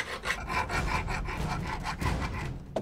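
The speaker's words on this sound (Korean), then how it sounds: "줄을 들고 가락지를 갈기 시작한다" Metal file rasping rhythmically across a silver ring, a series of quick, close scraping strokes repeating steadily without talk.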